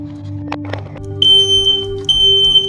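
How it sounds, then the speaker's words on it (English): A household smoke alarm shrieks with a loud, piercing high-pitched tone in a home by the bedroom during a test, sounding in long sustained bursts after a few clicks and thumps. "The high-pitched alarms are deafening"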